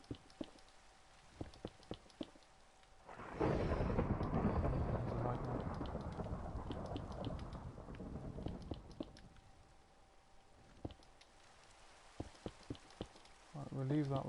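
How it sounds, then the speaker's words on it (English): Rain with a rolling rumble of thunder in Minecraft, a swelling roar that rises suddenly, holds for several seconds and fades back to a quiet pattering of sparse clicks. "Not high up, it started raining."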